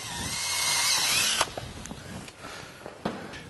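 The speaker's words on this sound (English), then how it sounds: "I will actually just go ahead and drill the center of the plastic out." A power drill whirs loudly for over a second, drilling out the center of a plastic plug while installing a Jeep JK front bumper, then stops, followed by clicks and scraping handling sounds close by.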